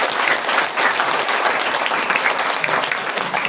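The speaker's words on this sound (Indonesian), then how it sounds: "Tepuk tangan buat Muhammadiyah." Audience applause for Muhammadiyah at a live communal fast-breaking and rice-distribution gathering, a steady dense clapping that fills the whole stretch at even loudness.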